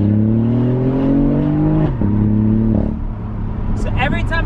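BMW i8 with an aftermarket exhaust, engine revving steadily up and down in sport mode and then crackling and sputtering as the throttle is released, close and loud, with someone talking over it.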